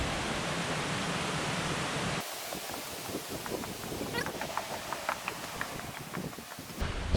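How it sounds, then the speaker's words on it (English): Water runs down the side of a rock arch toward a creek along a mountain hiking trail in the Great Smoky Mountains, a steady soft rushing wash with faint footsteps and movement over it. "All the water's flowing down the side,"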